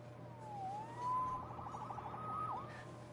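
A faint wailing siren, rising and falling, passes at a distance over a low steady hum.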